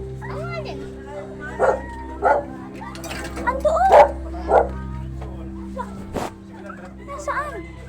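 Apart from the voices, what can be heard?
puppy crying and yipping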